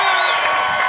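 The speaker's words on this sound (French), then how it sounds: "Est-ce qu'on peut applaudir Émile Coury," A comedy show audience at Cabaret BMO in Sainte-Thérèse cheers and applauds, a loud, steady wash of crowd noise with whoops rising through it.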